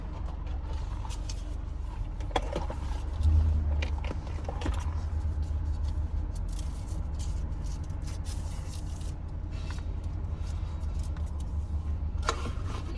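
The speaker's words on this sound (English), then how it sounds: "That's a weird truck. Battery truck." A low-slung battery-powered truck rolls by on a city street, a steady low rumble with soft road noise and faint jingling, without the roar of a combustion engine.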